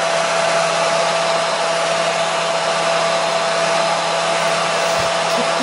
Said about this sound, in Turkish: Fön zamanı.